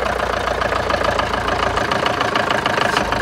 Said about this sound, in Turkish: gördüğünüz 240 dizel aracımızın marş sesini dinleyeceğiz